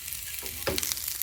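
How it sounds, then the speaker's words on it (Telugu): Chopped onion hitting hot oil with curry leaves in a pan, a soft background sizzle that jumps into a sharper crackling burst midway and then settles into steady frying. "కట్ చేసి పెట్టుకున్న ఆనియన్ వేసుకోవాలి."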